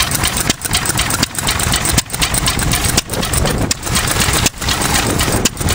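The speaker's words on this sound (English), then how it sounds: "if you can hear me over the exhaust" An old 4hp Rosebery stationary engine runs steadily, its exhaust chugging loudly in a regular rhythmic beat, close by and alone.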